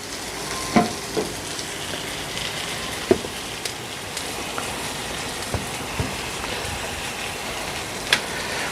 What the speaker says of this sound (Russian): А курочка у нас пока шипит.